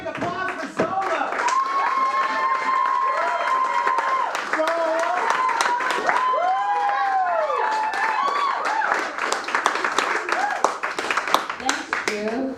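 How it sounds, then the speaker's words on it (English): At a comedy roast, the crowd breaks into sustained clapping and cheering, loud and close, while whistles and shouted voices ride over the applause. "Ladies and gentlemen, one more big applause for ZOlo."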